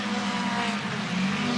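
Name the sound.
Mini 850 race cars racing at Mondello Park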